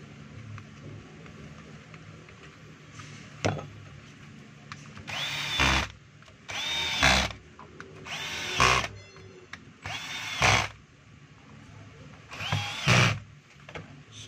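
An electric screwdriver drives screws to close the casing of a Stanley STEL670 heat gun, giving several short whirring bursts with quiet handling noise between them, close by.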